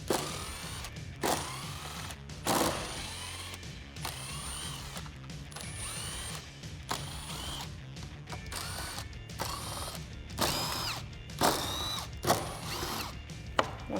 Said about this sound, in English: we can start removing the T25 Torx bolts that are holding the rest of the carrier together